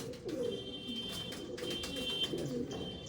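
Male Andhra pigeons of the tiger breed coo in repeated low, throaty phrases close by, with a high steady tone and faint background noise running beneath.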